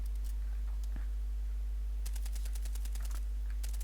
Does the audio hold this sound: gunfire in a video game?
yes